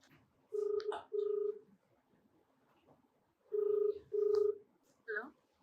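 A telephone is dialed for a call: two pairs of steady keypad tones, a pause, another two tones, then a short rising chirp, clear and close with no voice over them.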